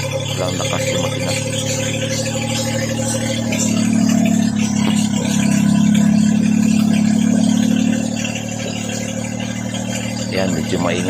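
A Suzuki Multicab with an F6A 12-valve engine runs without its muffler after a top overhaul, giving a loud, raw, steady drone with rattling, rising briefly in revs before settling back to idle.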